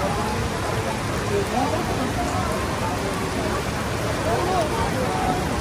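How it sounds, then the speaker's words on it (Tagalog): Heavy rain pours steadily on a beach area along Manila Bay, a dense continuous hiss with scattered drop patter throughout and no wind. "ang lakas ng ulan ngayon."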